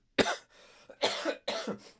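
Three harsh coughs burst out in quick succession, close and loud, each followed by a short wheezy tail, with no talking.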